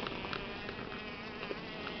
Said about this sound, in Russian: Вот столько у нас пчелок за работой